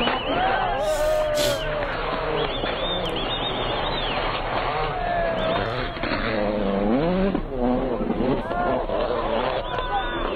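Rally cars race past with engines revving hard, loud and continuous, their pitch sweeping up and down through gear changes and throttle bursts, with faint crowd noise in the background.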